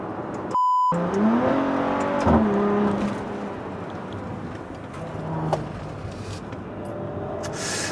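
A Maserati Levante Gran Sport, a roughly 2.2-tonne SUV, revs hard on a winding road, its exhaust rising and falling with rough, popping bursts, heard from inside the car with no talking.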